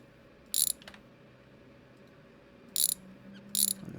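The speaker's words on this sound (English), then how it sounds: "we'll unbolt all of these cross members here" Wrench ratcheting while unbolting cross members from a rusty car frame in a garage, three short bursts of rapid clicking separated by quiet pauses, close and sharp, no talking.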